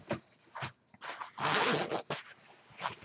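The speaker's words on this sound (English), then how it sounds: "We got a double zipper at the bottom here, so you can zip up a little bit" The double zipper at the bottom of a lightweight NRA tactical jacket is pulled in several short, close rasping strokes, with one longer zip in the middle and brief pauses between strokes.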